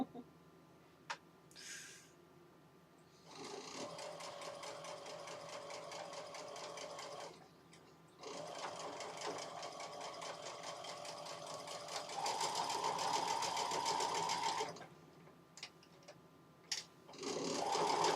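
A sewing machine stitches through bulky fabric in bursts, its rapid mechanical chatter running for several seconds at a time between short pauses, fairly close and steady.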